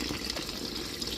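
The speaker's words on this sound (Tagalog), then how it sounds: "Ibabad natin muna siya ng tubig." Water poured steadily over dandelion flowers soaking for tea, a continuous close splashing and trickling fill with no pauses.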